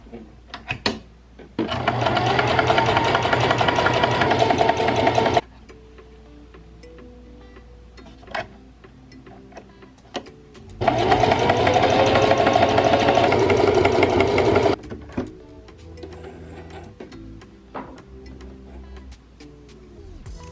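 A sewing machine top-stitches a T-shirt dog bandana in two steady, fast-running bursts of several seconds each, separated by quieter pauses with faint clicks and handling noises.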